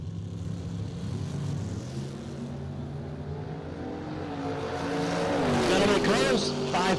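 Drag race cars roar hard off the starting line in a loud, close run, the engine note climbing and sweeping upward toward the end, with a voice talking over the noise.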